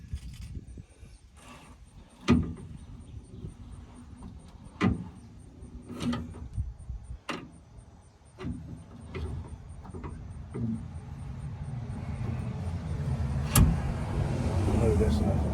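Spare tire winch on a 2000 Dodge Dakota, heard as a series of separate mechanical clicks and clunks at a fairly close distance, ending in a rising, continuous grinding hum as the heavy tire is pulled up.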